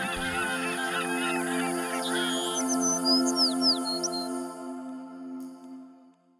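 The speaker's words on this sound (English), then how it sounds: "Birds, there are just a ton of birds in this watershed." Birds calling and chirping at the Nanaimo River estuary, with several overlapping songs and honk-like calls over a steady low hum, the chirps dense early on and thinning out before the sound fades.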